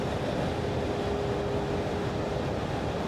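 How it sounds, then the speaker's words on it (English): Continuous low rumbling wind buffeting through an open truck sunroof, steady and fairly loud, with a constant road-like drone underneath and no voices. "It may be a bit windy, sorry, because I've got the sunroof open."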